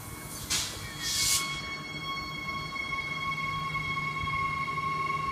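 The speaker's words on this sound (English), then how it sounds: "these interurban multiple units are just about to depart" A Queensland Rail interurban multiple unit train departs a suburban station platform with a brief burst of air hiss, then a rising electric motor whine and steady low rumble as it pulls away.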